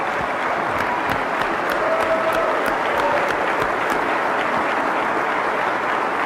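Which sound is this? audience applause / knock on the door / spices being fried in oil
audience applause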